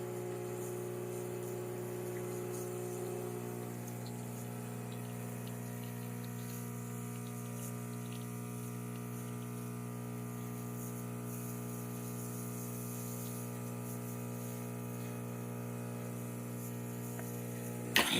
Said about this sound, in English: So starting with 1 shot of espresso, we're gonna be testing it out.